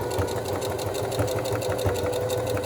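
A sewing machine stitches trim onto a romper, running at a steady rapid needle rhythm, close and mechanical, with a low motor hum beneath the clicking and no voices.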